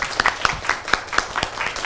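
Applause from the audience at a webinar: a steady run of sharp individual claps from a small group, fairly close, with no speech over them.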